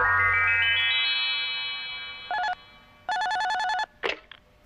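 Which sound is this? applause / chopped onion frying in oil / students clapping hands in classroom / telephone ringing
telephone ringing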